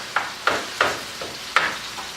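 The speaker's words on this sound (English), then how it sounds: "I'm breaking up my ground beef as I'm stirring it around" Ground beef frying in a pan while a spoon breaks it up, four or five distinct scraping stir strokes over a steady hiss of sizzling, close and fairly loud, no talking.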